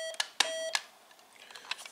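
Electronic beeps from a supermarket self-checkout machine: several short, sharp tones, with two longer beeps near the start, then fainter chirps and light handling noise.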